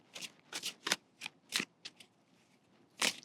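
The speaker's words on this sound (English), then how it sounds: "I'm going to begin shuffling the cards." Tarot cards being shuffled in a garden, a series of crisp riffling bursts in quick succession, close and clear with no talk.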